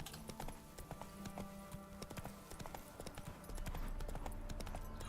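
Roach the horse gallops in The Witcher 3, a rapid, rhythmic clip-clop of hooves close by that continues throughout, with a low rumble joining in the last seconds.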